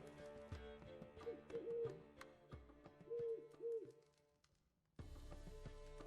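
Bird sounds in The Witcher 3: Wild Hunt, with soft cooing, hooting calls repeating over a layered game ambience, faint overall, then a brief lull before the background swells again.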